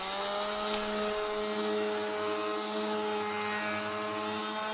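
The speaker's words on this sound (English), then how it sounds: "And then sanding it down." Power sander working wood for a hurdy gurdy guitar build, a continuous loud whining drone with steady tonal harmonics and no pauses.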